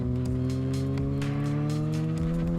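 A 2023 Kawasaki Ninja ZX6R 636 motorcycle with an M4 slip-on exhaust rides along, its engine a steady, droning whine with layered harmonics that rise and fall slightly across the short stretch.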